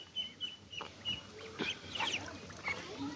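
Chinese and local domestic ducks quack in short, scattered calls at close range, repeated bursts over a low outdoor background.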